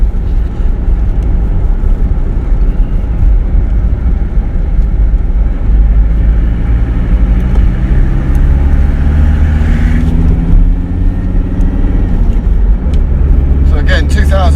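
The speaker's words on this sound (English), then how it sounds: "Dual carriageway, nice and slow, get it up to about 50 mile an hour." A freshly rebuilt car engine drives steadily along a dual carriageway at around 50 mph, giving a loud, continuous low road and engine drone with rising tones as it accelerates; someone talks over it.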